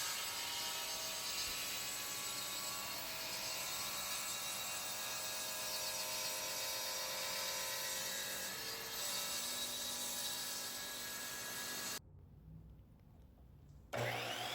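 A chop saw cuts a walnut board to length with a steady, loud whine that runs for about twelve seconds, then cuts off abruptly into near silence before a brief return.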